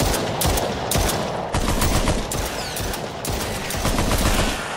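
A mounted turret in the PSVR game The Brookhaven Experiment fires in loud, rapid bursts, each volley rattling for about a second with short breaks between.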